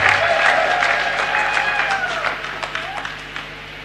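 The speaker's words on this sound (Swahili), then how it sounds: "Hebu jiongezeni makofi." An audience at a health insurance launch event claps in applause, a dense wash of hands that is loud at first, then thins into scattered claps and fades.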